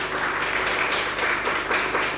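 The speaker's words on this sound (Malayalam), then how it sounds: "ഒന്ന് കൈയടിച്ചേ." An audience at a felicitation event held by local youth in Puthukkad claps together, producing dense and even applause throughout.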